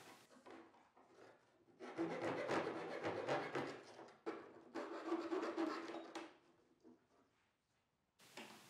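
A hand tool rasps and scrapes through the wooden holding tabs to free a bass guitar fretboard from its blank, working in two long sustained scratchy strokes with quieter gaps between them, close-up and with no talking.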